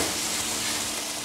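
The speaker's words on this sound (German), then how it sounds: "Zum Anbraten verwendet Brunhilde wieder ihr selbstgemachtes Butterschmalz." Fresh valley mushrooms fry in homemade clarified butter in a pan, giving a dense, steady sizzle and hiss that holds close and even throughout.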